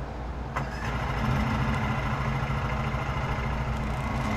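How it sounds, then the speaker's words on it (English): A lawn mower engine in a mowing simulator game cranks briefly, then catches and settles into a steady, loud, even running drone that holds to the end, with no talking. "Alright, start engine."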